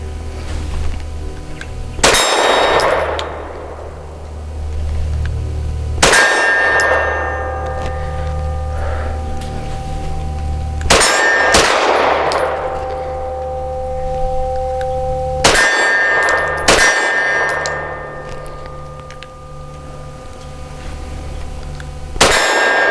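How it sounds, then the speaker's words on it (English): Walther PDP 5-inch compact pistol fires at an outdoor steel target, five loud sharp shots spaced a few seconds apart, each followed by a ringing metallic clang that decays slowly, with no talking. "I'm gonna shoot the same piece of steel."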